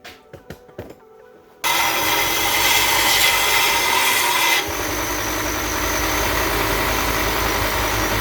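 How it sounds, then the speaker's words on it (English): A welding cart is sanded down with a power sander: a few faint knocks give way to a loud, steady grinding whir that holds on, dropping slightly in pitch partway through. "Now we'll take it over and sand it down."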